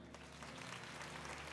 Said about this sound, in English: as we call their names, you shall clap for them and appreciate them.